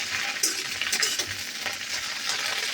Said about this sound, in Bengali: হালকা ঢ্যাঁড়সটাকে নেড়ে নেবো